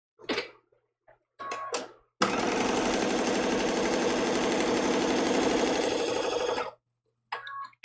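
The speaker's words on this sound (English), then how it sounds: "We're going to sew right on that line right there." A sewing machine stitches a small paper-pieced quilt block, a few short bursts followed by a long steady run of fast rhythmic needle action, close and clear, then stopping.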